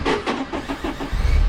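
A Porsche 944 engine cranks over in a quick, regular run of starter pulses, then catches into a deeper, louder rumble during the final moments, heard close up with no talking.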